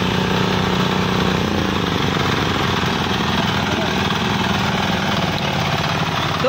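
A group of mini power tillers chugs together on farmland, their overlapping small engines making a steady, rough, rattling drone that stays loud and constant from start to finish.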